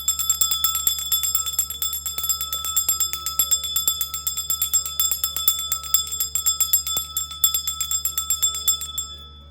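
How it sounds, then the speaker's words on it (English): Small bells ring rapidly and repeatedly during spell casting, a bright, continuous metallic jingling with sustained high tones, close and fairly loud, with no talking. "let's ring some bells"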